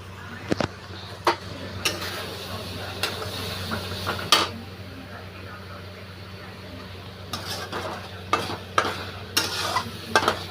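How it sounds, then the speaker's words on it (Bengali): Spice paste frying and being stirred in a pan for kachu shak, a soft steady sizzle under scattered sharp clinks and scrapes of a spoon against the pan, close by. "মশলাটাকে আমি ভালো করে কষে নেব।"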